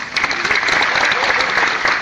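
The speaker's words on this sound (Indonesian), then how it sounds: "boleh tepuk tangan" Seminar audience of around a hundred people breaking into steady applause, dense clapping that fills the room for a couple of seconds with faint voices mixed in.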